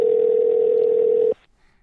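A steady telephone dial tone from a prank call hums loudly for just over a second, then cuts off abruptly into near silence.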